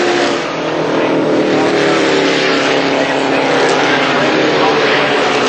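Formula Vee race cars sweep through a corner at Amaroo, their engines forming a loud, dense, continuous roar that swells slightly as they pass, with a commentator speaking over the noise.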